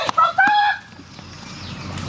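A rooster crows once, loud and near, with a rising then held cry that cuts off quickly and leaves a low rural background hum.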